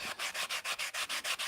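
Hand sanding with 80 grit sandpaper on a thick sheet, about 3/8 inch, in quick regular back-and-forth strokes, roughly eight rhythmic rasping passes, close and alone.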